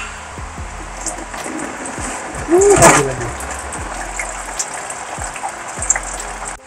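Water draining from a Suzuki Vitara engine during repair, a gushing splash into a tray that swells briefly mid-clip, with a voice speaking over steady workshop background noise.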